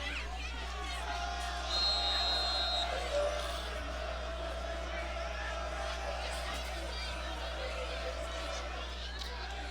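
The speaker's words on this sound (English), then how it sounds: "A little bit of a cheer off going on between our cheerleaders and the Bulldogs cheerleaders here." Cheerleaders from two schools trading cheers at a high school football game, with a distant crowd roar and chatter swelling faintly at times over a steady low hum.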